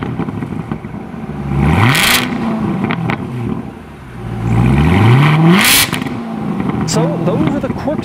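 A Chevrolet Corvette ZR1 engine is revved hard twice, each sweep climbing and falling with loud exhaust. A pause separates the blips, and a sharp crackle follows the second. Talk runs underneath.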